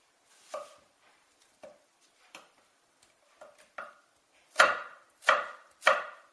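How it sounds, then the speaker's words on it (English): An onion is chopped on a board with a knife, giving sparse, irregular single thuds at first, then three louder, heavier chops near the end, all close and otherwise quiet. "we're going to get ready to start cutting the onion in it"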